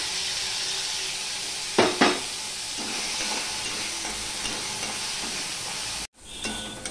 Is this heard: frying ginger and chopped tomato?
yes